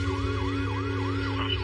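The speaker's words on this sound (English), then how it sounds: "so they called the ambulance" An ambulance siren wails continuously in a regular rising and falling cycle, loud and steady over a low engine rumble, with no one speaking.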